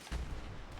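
Security turret firing in the video game Fallout 76, a loud burst of low, booming gunfire shots that starts abruptly and rumbles on for under a second with no talk.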